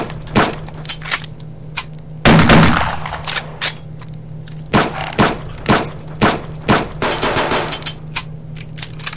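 Rifle gunfire in the Subsistence video game, a series of sharp, loud single shots spaced irregularly, with a denser burst early on and regular shots toward the end over a low steady hum.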